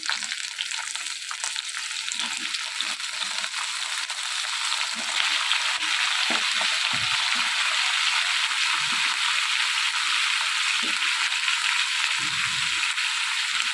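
Cut brinjal pieces frying in a pan for vankaya roti pachadi, giving a loud, continuous close-up sizzle with occasional low stirring clinks and scrapes underneath, no voices.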